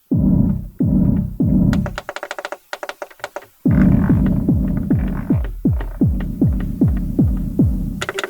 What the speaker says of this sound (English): Gated reverb works quite nice on a kick.